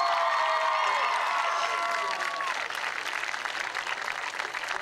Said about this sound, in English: Class, can we give them a round of applause?